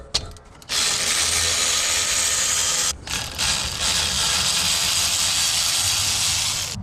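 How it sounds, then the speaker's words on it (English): Power ratchet or impact tool loosening 2.5-inch brake caliper bolts on a Ram 1500 during a brake job, a loud continuous close mechanical rattle over several seconds with a brief break in the middle. "you got the 2 1/2-inch bolts that you're going to pull off"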